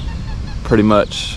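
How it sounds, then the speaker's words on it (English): Goose-like honks from birds at a lakeside yacht club, a single loud honking call lasting about a third of a second, heard over steady outdoor background noise and distant construction after a hurricane. "You can hear the birds chirping."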